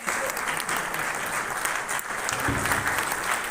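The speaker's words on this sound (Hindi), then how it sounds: "थोड़ा एक्सरसाइज करिए, खड़े होकर ताली बजाइए, मजा आएगा।" An audience at a business meetup stands and claps, steady dense applause filling the hall throughout, fairly loud and close with no talk over it.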